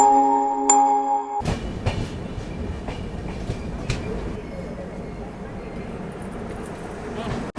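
Rajdhani Express passenger train running near Udupi in Karnataka, a steady rumbling roll with rhythmic wheel clatter that starts abruptly after a brief quiet tone and continues close and loud for the rest of the clip.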